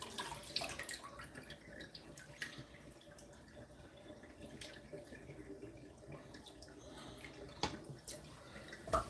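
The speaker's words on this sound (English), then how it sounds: "Thereafter, I'll just pop that water inside that sink." Water splashing and trickling into a kitchen sink after being emptied from a juicer, with irregular drips and pouring sounds running steadily throughout at moderate volume, no talking.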